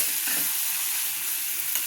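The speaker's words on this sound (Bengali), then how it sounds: "একটু নেড়ে চেড়ে নিতে হবে।" Ground chili and Kashmiri red chili powder are stirred into hot oil in a pan for a potol bahar dish, giving a continuous loud, close sizzle with light stirring scrapes, without talking.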